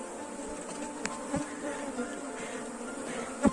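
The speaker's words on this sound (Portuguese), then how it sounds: "O enxame aqui é um pouco mais agressivo que o normal" Africanized honeybees swarming at a hive, a steady close buzz with occasional louder individual bees passing near, continuous throughout and no talking.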